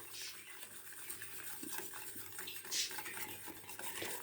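A spoon stirs a sugared milk pudding mixture in a pot, with soft repeated scraping and light clinks of metal against the pan, quiet and close with no talk.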